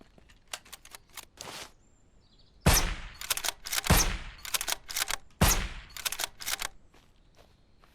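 Gunfire in the zombie survival game SurrounDead: sharp, loud sniper shots with some echo crack out, spaced apart and then in several quick bursts, with no talking.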